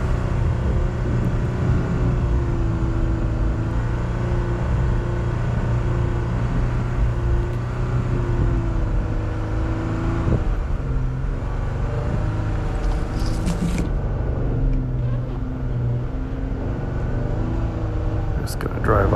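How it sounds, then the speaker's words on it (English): An off-road vehicle grinds along a snowy winter trail while out wheeling, its engine a steady, close, harmonic drone that dips briefly partway through, with voices talking over it. "Just gonna drive up to where it's nice and easy to stop"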